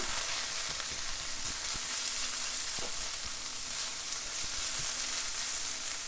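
Food sizzles steadily as it reheats in a frying pan seasoned with smoked paprika, a constant close hiss with occasional soft stirring scrapes and no talking.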